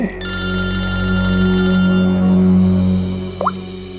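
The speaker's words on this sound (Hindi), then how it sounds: "सर हॉस्पिटल से फोन था" A telephone rings steadily and loudly with a bright, continuous electronic trill, alone, in a police-drama office setting.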